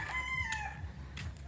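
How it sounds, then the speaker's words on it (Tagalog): Roosters crow in the morning, with a long drawn-out call near the start. Steady low background rumble continues underneath. "marinig natin guys yung mga tilaw ng manok guys pag umaga"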